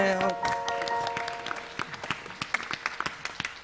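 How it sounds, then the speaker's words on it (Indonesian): Steady applause from a crowd at a Javanese wayang performance, many hands clapping and gradually fading, with a sustained musical tone in the first moments. "Iki tepuk tangan ini."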